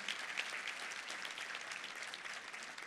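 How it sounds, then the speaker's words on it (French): Church congregation applauding during a Sunday morning service, continuous crowd clapping that is fairly distant and soft, sustained evenly throughout. "Même peut-être un bon applaudissement pour mon père, le Pasteur Sam."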